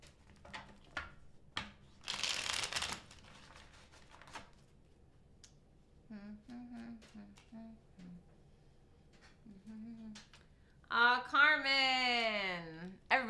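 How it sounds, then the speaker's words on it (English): Tarot cards are shuffled in a short, papery riffle burst lasting about a second, set among quieter handling taps and a voice speaking. "2 more shuffles for Gemini for this coming week"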